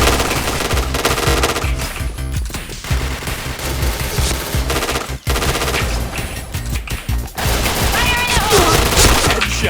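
Rapid bursts of automatic gunfire and explosions from the game Point Blank, loud and dense, with short pauses between volleys.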